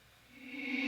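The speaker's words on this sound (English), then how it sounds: "the first chop I'm going to show you guys is like a kind of reverse riser" A reverse riser vocal chop, a short reversed vocal swelling steadily louder over under a second into a bright, sustained tone, heard alone.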